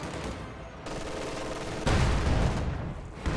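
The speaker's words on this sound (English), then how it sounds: "he is doing so under machine gun and Stug fire" Machine gun and StuG assault gun fire in a World War II strategy game: a dense, continuous rattle of automatic fire with a heavier thumping swell partway through, no voices.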